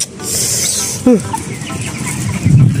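A chicken clucks briefly up close in a colony rack cage, over steady rustling and background noise, with a low murmur near the end.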